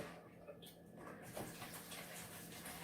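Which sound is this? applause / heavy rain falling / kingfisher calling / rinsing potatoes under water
rinsing potatoes under water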